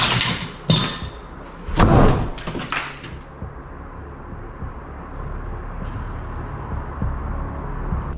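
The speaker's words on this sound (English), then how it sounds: "a door right next to him slams shut" A door slams shut right beside the listener, with loud sharp thuds early on, then a quieter muffled room tone with faint knocks in a reportedly haunted house.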